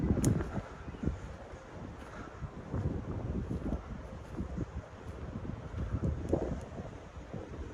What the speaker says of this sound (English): It's getting a little windy anyways.